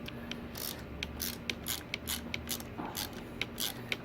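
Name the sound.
loosening Loctite bolts on a Rad Power Bike front rack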